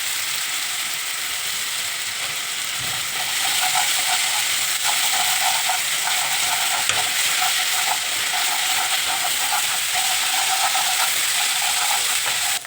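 Curry leaves drop into hot oil for an egg curry, setting off a loud, close, continuous sizzle that grows fuller after a few seconds and keeps crackling steadily to the end.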